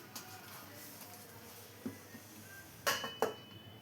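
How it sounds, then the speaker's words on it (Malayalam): A pot of rava kichadi is taken off the stove flame and covered with a lid, giving a few separate metallic clinks and clanks, the loudest two near the end, over a quiet kitchen background. "ഇനി നമുക്കിത് ഫ്ലെയിം ഒന്ന് ഓഫ് ചെയ്ത് മൂടി വെച്ച് കൊടുക്കാം"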